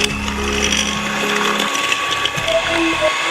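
An electric mixer beats icing sugar for a strawberry cheesecake with a close, steady mechanical whirring and rattling, the motor note shifting slightly partway through.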